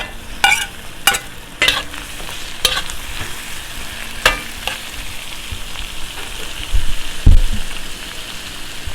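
Chili, ginger and tomato fry in a pan, loud and close, crackling and spattering under sharp stirring scrapes and a few knocks of the spoon, with a thud near the end.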